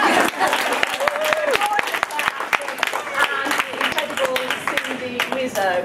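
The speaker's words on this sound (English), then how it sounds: "Clare Lydon, the gorgeous Clare Ashton, I need a clap," Audience at an indie author panel at L Fest 2014 claps for the panelists, a brief burst of scattered handclaps under a speaker's voice.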